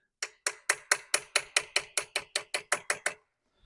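A Snap-on ratchet turns a bolt during clutch work, giving about a dozen crisp, evenly spaced clicks, close and loud, alone in a quiet space.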